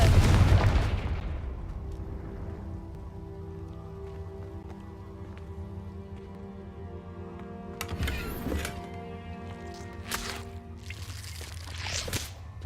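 A Confringo blasting curse in a Harry Potter video game bursts with a heavy boom at the start, followed by a lingering humming drone and a few sharp crackling hits later on.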